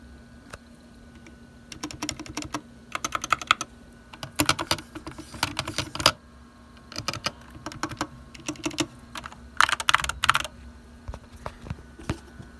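Typing on a GK61 hot-swappable mechanical keyboard with Gateron optical switches, close bursts of quick crisp key clicks in uneven runs with short pauses, alone over a faint hum.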